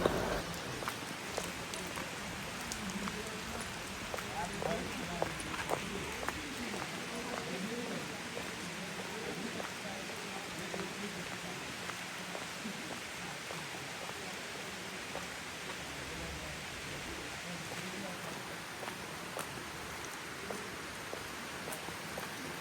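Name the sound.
heavy rain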